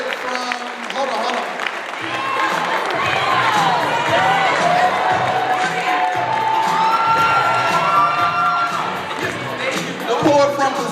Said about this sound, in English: Let's keep the applause going for the poet from, hold on.